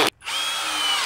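A short burst, a brief pause, then the sustained high whine of a power drill driving wood screws at a diagonal into a wooden table base, close and alone.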